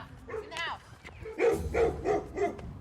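Loose dogs bark and yip excitedly while charging after a bear outdoors, several sharp barks in quick succession mixed with a high whimper, while someone talks over them.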